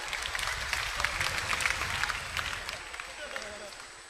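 Applause from an audience at a stand-up comedy show, a dense close burst of clapping and crowd noise lasting a few seconds, with a voice heard over it toward the end.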